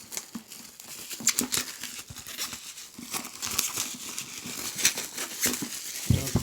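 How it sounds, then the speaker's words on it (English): Plastic shrink wrap is peeled and torn off a board game box, close crinkling and crackling in uneven bursts for several seconds with no talk. "let's get this plastic off and check out what's inside"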